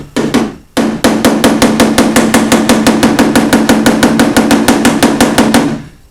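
A small hammer strikes car body sheet metal during bodywork repair, a fast, even rapid-fire run of loud ringing taps after a brief opening burst and short pause, close up and alone.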